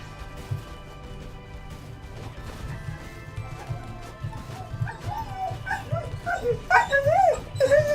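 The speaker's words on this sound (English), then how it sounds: "that's my dog freaking out right now" A pet dog barks, yips and whimpers excitedly indoors behind game music, with the cries growing louder and more frantic toward the end as people arrive home.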